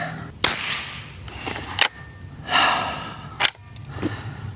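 Sharp, close reports from a Savage Mark II .22 Long Rifle at a 50-yard range, three distinct cracks spaced over a few seconds with faint talking between shots.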